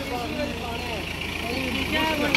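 An Eco Master 554 55 hp 4x4 tractor engine runs at a steady idle while pulling an 18-disc harrow on ploughed ground, a low continuous rumble close by with speech over it.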